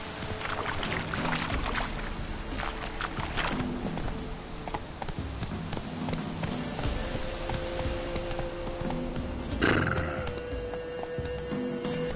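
Horse Roach's hooves clip-clop steadily on the ground in the video game Witcher 3, with a quieter whinny-like sound near the end.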